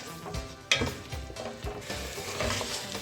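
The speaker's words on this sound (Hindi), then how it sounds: "और साथ ही आलूओं के हम ऐड करेंगे गाजर। ये 2 चीज़ें जो है ये मैं पहले ऐड करूँगी। मसाले में थोड़ा सा मैं भूनूंगी 2 मिनट के लिए" Potatoes and carrots fry in a spice mix in a pan, with a continuous sizzle broken by stirring scrapes and a sharp utensil knock, all close and fairly even in level.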